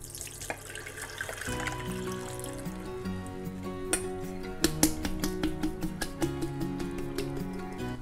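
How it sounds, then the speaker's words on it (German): Juice from jarred pitted cherries pours off into a container as a steady liquid stream, with a few clinking taps of glass partway through and a brief musical tone under the flow. "Die gieße ich mir ab und fange den Saft auf."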